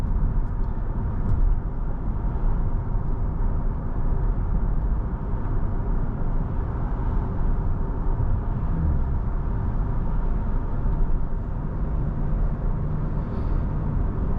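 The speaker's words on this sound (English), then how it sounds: "all you really hear is wind noise. Road noise is kept to a minimum." Steady broadband wind and road noise inside a 2022 Lexus ES300h Ultra Luxury hybrid sedan on the move, a constant low rumble with an even level throughout and no talk.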